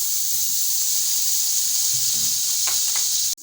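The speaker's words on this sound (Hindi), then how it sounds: "यहाँ पे फ्राई पैन ले लिया है और इसमें जो है मैं ऐड करने लगी हूँ यहाँ 2 खाने का चम्मच बटर" Butter, two tablespoons, sizzling steadily in a frying pan, a continuous bright hiss with faint crackles, cut off abruptly near the end.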